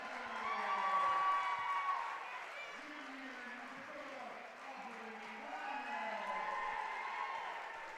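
A home crowd cheers and yells at a girls high school basketball game at Mount Gilead, a moderate indoor roar of voices that rises and falls, with scattered whoops and a commentator talking over it.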